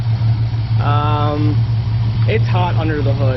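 A Ford Mustang 4.0 V6 with an idle chop mod idles steadily under the open hood, a low loping hum running throughout while someone talks over it.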